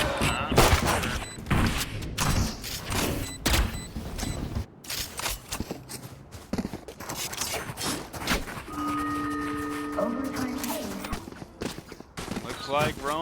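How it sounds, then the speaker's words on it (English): Rapid gunfire bursts from the shooter game Valorant, loud and repeated, with footsteps and ability sounds mixed in under a caster talking. "Nice shots there from Acid"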